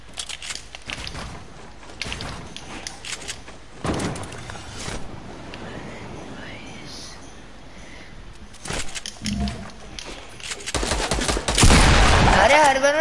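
Video game gunfire comes in scattered bursts of shots, with a heavy volley near the end, layered over mid-level game ambience and occasional voices.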